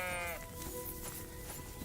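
A sheep in Kingdom Come Deliverance 2 gives one clear, wavering bleat near the start, followed by a quieter ambient game soundscape.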